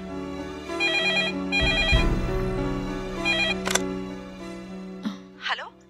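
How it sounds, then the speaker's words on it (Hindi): In a Hindi film drama scene, a telephone trills in two loud electronic ring bursts. The ringing then stops, followed by a few brief scattered sounds and faint voice-like noises. "सिद्धार्थ, कितनी देर से फोन कर रही हो, तुम बिजी थे क्या?"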